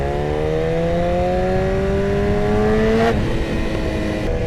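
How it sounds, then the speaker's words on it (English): BMW S1000RR with a Vandemon full titanium exhaust accelerating hard, a rising high-pitched engine wail climbing steadily before a sudden cut and shift, loud and close. "insane with the amount of popping that is produced by this exhaust system"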